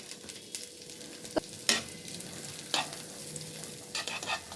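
Corn kernels frying in ghee, a soft, close sizzle punctuated by a handful of sharp spatula scrapes and knocks against the pan.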